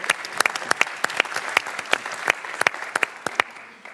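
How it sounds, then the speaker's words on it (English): Applause for a minister at a regulatory summit breakout session in Copenhagen, a steady round of crisp claps from a moderate crowd, close and lively, building slightly before tapering off. "Let's give the minister a warm round of applause"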